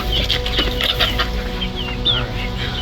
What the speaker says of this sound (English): Got our hens.